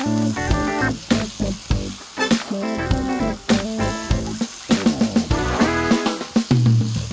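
Meat browning in a frying pan for a stuffed beef dish, loud continuous sizzling and crackling with repeated sharp stirring and scraping clatters close by.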